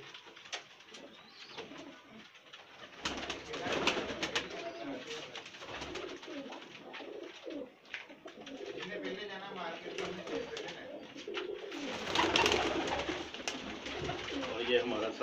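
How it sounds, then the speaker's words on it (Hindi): Pigeons coo softly and repeatedly close by, with low throaty calls rising and falling throughout while someone talks over them. "और ये हमारा सबसे पुराना कबूतर है"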